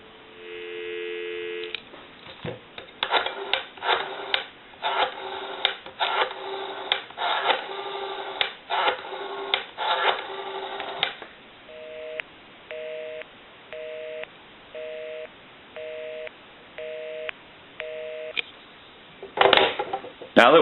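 A Western Electric 302 rotary desk telephone from the mid-1950s, freshly repaired, gives a steady dial tone, then a run of rapid dialing pulses and busy-signal bursts, followed by a regular on-off tone pattern, loud and close with no talking.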